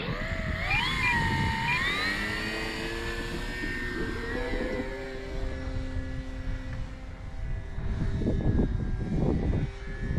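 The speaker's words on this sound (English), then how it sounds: "Probably the first time this plane has been in the air in who knows how long." A small Cermark Gee Bee R3 RC model airplane engine buzzes overhead, its whining pitch rising and falling as it passes, with a steady drone beneath.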